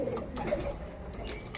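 Tournament racing pigeons brought from Punjab coo softly in a quiet, low murmur close by, with no other sound standing out.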